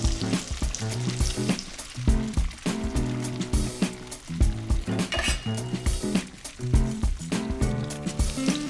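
Food with Parmesan cheese fries loudly in a pan, a close, constant sizzle punctuated by clinks and scrapes of utensils against cookware.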